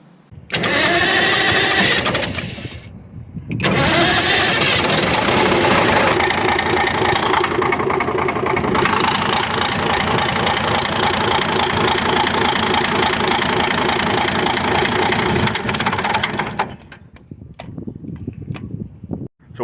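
An old abandoned International bulldozer's diesel engine cranks and runs with a rough knocking clatter, loud and close, after a brief start and a pause, then cuts out near the end.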